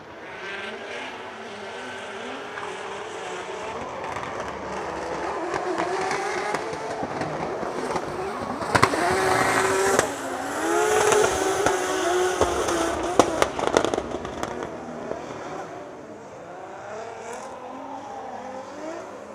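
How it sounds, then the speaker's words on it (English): A Nissan S14 drift car swapped with a JZ engine bounces off its rev limiter during Drift Masters practice in Finland. It is loud and continuous, and it swells in the middle with sharp crackling bursts. "Listen to that rev limiter on Linfenord's S14 to JZ car."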